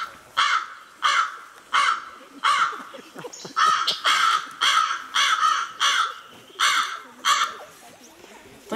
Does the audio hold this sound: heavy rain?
no